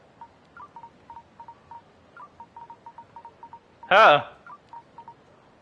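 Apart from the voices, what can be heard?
phone keypad tones in Yakuza Kiwami 3 video game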